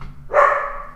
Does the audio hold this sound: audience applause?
no